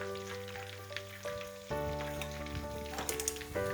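Chicken pieces for KFC-style crispy fried chicken bubble and sizzle steadily in hot oil in a pan, a dense close crackle that grows louder after the pieces are turned, with a steady hum underneath.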